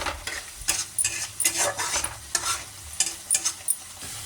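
Ground spices (pepper, salt, chili powder, turmeric, masala powder) frying in the gravy of a mustard fish curry, with a steady close sizzle and repeated scraping stirs of a spoon against the pan, no voices.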